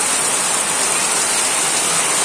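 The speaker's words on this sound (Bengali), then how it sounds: "কালকে সারা রাত ভরে প্রচুর বৃষ্টি হচ্ছে, দেখতে পাচ্ছেন।" Heavy pre-monsoon storm rain pouring down through the night in a dense, constant roar with no pauses, loud and close.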